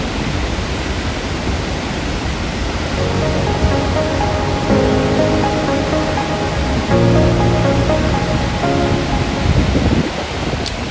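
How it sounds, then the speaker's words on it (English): Rushing water of the Barachukki waterfalls fills the whole stretch as a steady, loud, broad roar, with soft music playing on top of it and no voices. "This is not just a waterfall, it's an experience."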